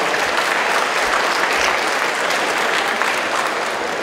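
Loud, dense audience applause fills an award ceremony at a school project and creative competition final, a steady wash of many hands clapping throughout without pause.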